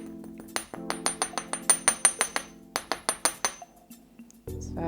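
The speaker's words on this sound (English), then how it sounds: "So I'm going to hammer them right from the top where my little coil is." Quick series of sharp metallic taps, a hammer striking the coiled top of a small wire earring hoop in rapid bursts with brief pauses between groups.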